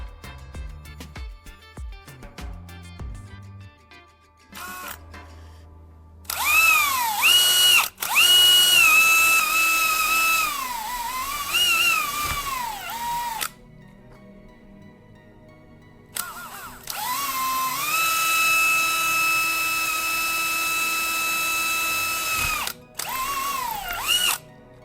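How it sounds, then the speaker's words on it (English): A power drill whirs in two sustained bursts while drilling a hole through an old RO motor's mount for wires, pitch dipping as it bites into material, with short clicks and pauses between runs. "I need to drill a hole to feed the wires through."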